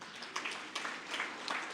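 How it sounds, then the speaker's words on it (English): Applause from an audience at a sustainable finance curriculum launch event, a steady wash of many hands clapping with a few sharper individual claps, moderately loud and sustained throughout. "Let's clap for Moses."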